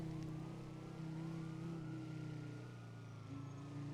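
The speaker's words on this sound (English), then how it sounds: "Where are those sirens coming from?" Faint sirens wail somewhere far off in the NoPixel roleplay game, their pitch slowly sweeping up and down over a steady low traffic rumble.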